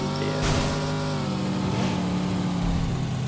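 A car engine runs continuously while driving in a video game, a steady revving drone with a brief louder surge near the start and another swell later on.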